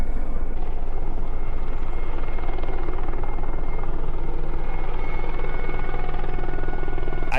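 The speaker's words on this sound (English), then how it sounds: "there's a helicopter flying over right now" A helicopter drones steadily overhead, its rotor thumping in a constant rapid beat, loud and unbroken for the whole stretch.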